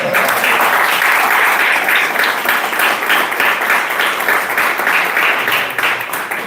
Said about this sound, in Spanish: ¡Qué producción! Un aplauso por la producción cada vez.